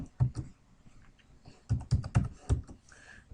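Typing on a computer keyboard to enter data into a list, heard as bursts of close, crisp keystrokes with brief pauses between clusters.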